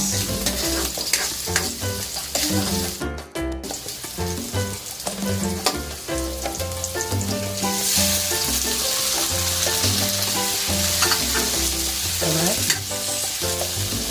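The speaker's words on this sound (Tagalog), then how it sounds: "Nagluluto na ng veggies." Onions, tomatoes and other vegetables fry and are stirred in a pan, with a continuous close sizzle broken by repeated scraping and clinking from the stirring utensil.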